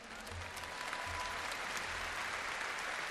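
An audience gives steady applause, many hands clapping continuously, with faint low rumbles beneath.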